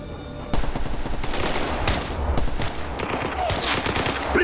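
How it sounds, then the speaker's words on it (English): Rapid bursts of gunfire with normal bullets in S.T.A.L.K.E.R. Anomaly, loud and close, with sharp repeated shots and short pauses between volleys. "I'm gonna try shooting Eidolon with normal bullets"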